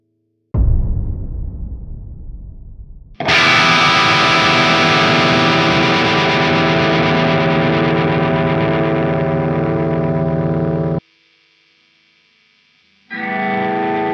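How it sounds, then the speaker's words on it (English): One acoustic guitar is strummed while pressed against a second guitar, making the second guitar's strings resonate. A short plucked onset fades first, then a loud, full, shimmering ringing wash holds for several seconds, cuts off, and a second strum returns near the end. "if I strum this other guitar pressed up against this guitar, we will get the resonance from this guitar going into this guitar"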